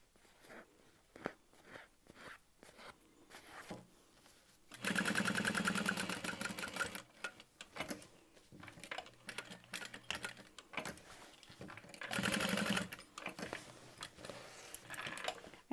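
A sewing machine box-stitches a tote bag in two bursts of fast, steady whirring stitching, with quieter clicks and handling noises between and around them.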